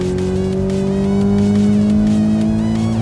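A Subaru BRZ brakes hard and turns in on a race track, its engine a loud steady drone with shifting pitch and faint tire squeal, close and continuous with no talking.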